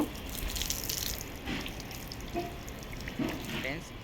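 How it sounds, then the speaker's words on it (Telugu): An outdoor tap at the Jagannath temple in Banjara Hills, Hyderabad, running steadily as feet are washed, the water hiss and splatter continuous, with soft splashes rising now and then. "ఇక్కడ మనకు ట్యాప్స్ అయితే ఉంటాయి కాలు వాష్ చేసుకొని అయితే వెళ్ళొచ్చు"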